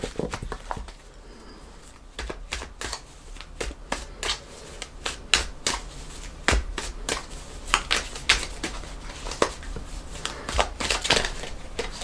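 A Gilded Tarot deck of cards being shuffled, close and fairly quiet, with soft irregular riffling and sharp card flicks and snaps.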